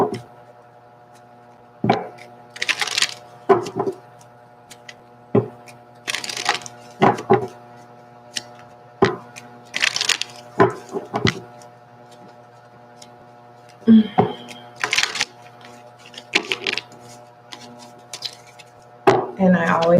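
Goddess Oracle cards being shuffled and handled in bursts of papery riffling and tapping, scattered irregularly through a quiet room with a low steady hum underneath.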